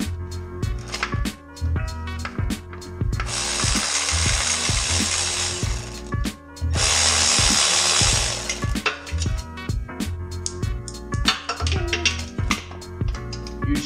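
Hand ratchet clicking rapidly while backing out the many oil pan bolts on a BMW 135i with the N54 engine, close and loud, with two longer stretches of continuous louder hiss-like mechanical noise between bursts of sharp pawl clicks.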